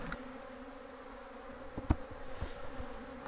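A dense, steady insect drone of many bees buzzing nearby, with a few louder buzzes passing close by.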